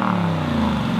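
Aston Martin V8 Vantage with the exhaust baffle fuse pulled, a loud, steady deep exhaust drone holding throughout as the engine runs.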